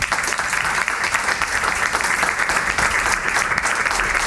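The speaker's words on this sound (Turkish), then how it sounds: "Alkış." Studio audience at a comedy show applauding, a dense, even burst of many hands clapping held for several seconds at steady volume.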